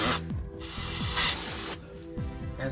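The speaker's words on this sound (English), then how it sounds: "I'm gonna take this brake clean. We spray this down" Brake cleaner sprays from an aerosol can onto threaded parts of a vehicle's fender flare hardware, a loud close hiss in two long bursts separated by a brief pause, with no talking.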